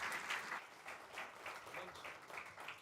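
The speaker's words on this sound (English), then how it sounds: "An applause" Faint applause from a conference audience after a talk on offshore power for e-fuels, soft uneven waves of clapping that sound distant and low in level.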